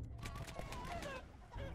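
Chickens cluck in the Totally Accurate Battle Simulator video game, a run of short clucks amid busy game noise, fairly quiet and close.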